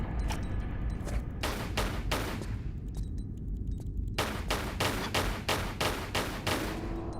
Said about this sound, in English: I forgot about the quiet pistols.